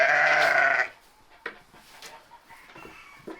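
A sheep on a farm lets out a loud, close bleat lasting nearly a second, followed by quieter rustling and faint knocks.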